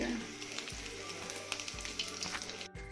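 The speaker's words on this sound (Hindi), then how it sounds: "मैंने कटलेट वगैरह तलना शुरू कर दिया" Cutlets fry in a pan with a steady crackling sizzle, punctuated by a few low thumps as they are handled, close but fairly quiet throughout.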